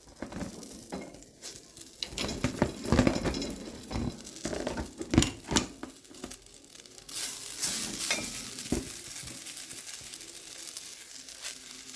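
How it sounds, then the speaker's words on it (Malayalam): Henna leaves and neelamari leaves roasting and being stirred in a hot pan, with crisp crackling, rustling leaf noise and repeated scraping knocks of the stirrer, close and uneven in rhythm. "ഒരു ഉരുളിയാണ് വെച്ചാൽ അതിലേക്ക് നമുക്ക് ഈ മൈലാഞ്ചി ഇല ഇട്ട് കൊടുത്ത് വറുത്തെടുക്കാം."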